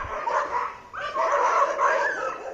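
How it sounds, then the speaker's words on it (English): Several dogs barking, yipping and whimpering in a street scuffle in Kodai, continuous agitated barks close by and loud, with no talk. "So like the other dogs are barking at him now."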